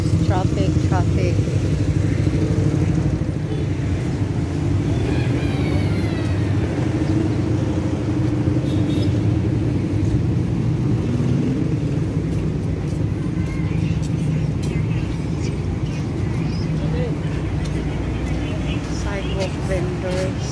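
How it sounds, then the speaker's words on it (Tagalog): Busy street traffic at Matina Crossing in Davao City, a steady rumble of cars and motorcycles passing close by, continuous throughout with faint horns and voices mixed into the street noise. "Traffic."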